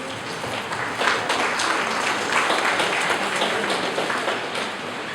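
An audience at a World Water Day event at an engineering college in Mangaluru applauds in welcome of the school's principal, a dense, sustained wash of many hands clapping at steady volume with no talk over it.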